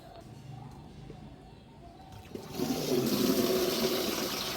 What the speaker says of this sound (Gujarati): હવે આપણે એને પાણી પીવડાવી દઈએ